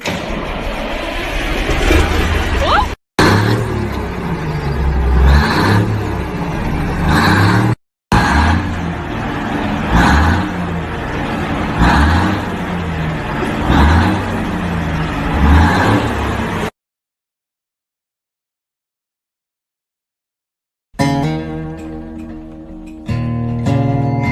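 Restored truck, freshly painted with redone upholstery, running with its engine revving in loud repeated surges across roughly sixteen seconds, broken by short gaps and a stretch of silence before a different sound closes the clip.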